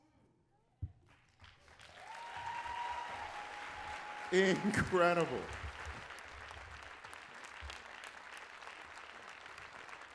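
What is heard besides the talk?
audience applause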